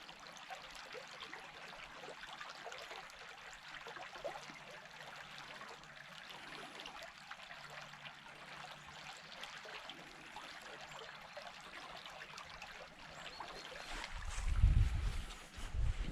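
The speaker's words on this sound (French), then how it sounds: "je voulais vous faire écouter ce petit murmure de l'eau qui est très agréable" A small stream flowing gently in a quiet springtime outdoor spot, a soft, faint continuous trickle and murmur with a louder rustle near the end.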